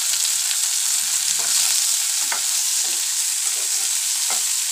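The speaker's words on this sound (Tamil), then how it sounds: "சேர்த்து நல்லா வதக்கி விட்டுக்கோங்க. தக்காளி பூண்டெல்லாம் நல்லா எண்ணெயில் நல்லா வதங்கிடலாம்." Curry leaves, tomato and garlic sautéing in oil for village-style venthaya kuzhambu: a loud, constant hissing sizzle with intermittent soft stirring scrapes, and no voices.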